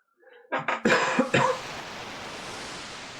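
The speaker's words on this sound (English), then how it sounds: "Can't start the episode without a cough." A few close coughs in a quick burst, harsh and throaty, followed by steady background hiss.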